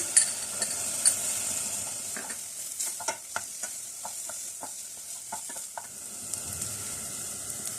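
Ginger paste frying with sautéed onions in a pan, a soft continuous sizzle broken by quick clinks and scrapes of a stirring spoon, close and moderately loud, no voices.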